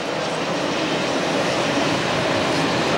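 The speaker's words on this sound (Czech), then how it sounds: "Na srub a za ním teďka pojede vláček," A steady, loud rumbling roar of a small train passing behind a log cabin in Těsnohlídkovo valley, broadband and continuous throughout with no talking.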